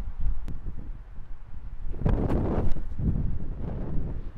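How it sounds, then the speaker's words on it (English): Gusty wind buffets the microphone outdoors, a steady low rumble that swells louder in the second half, with no voices. "It's a bit windy. Yeah, it's headwind."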